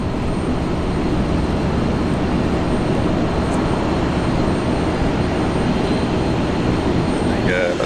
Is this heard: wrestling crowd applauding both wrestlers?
no